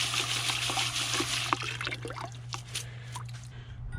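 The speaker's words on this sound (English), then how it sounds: "You just want to keep shaking it to get some of that fine material rinsed out and any mud clumps" Rocks shaken in a sieve while water rinses the mud and fine material out, a steady trickling and splashing with small clicks and knocks of stone, continuous and fairly faint over a low hum.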